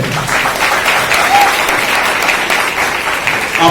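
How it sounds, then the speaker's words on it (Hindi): A crowd at a motivational speech by Ravi Raj Singh claps loudly and steadily for themselves, a dense and sustained wash of applause that holds at high volume throughout. "एक बार जोरदार आप लोग अपने लिए ताली बजाइए"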